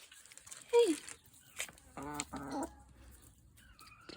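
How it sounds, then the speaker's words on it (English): A small backyard flock of four chickens in hot Australian summer countryside, soft clucks and a few louder squawks close by, scattered over quiet background. "So we have 4 chickens."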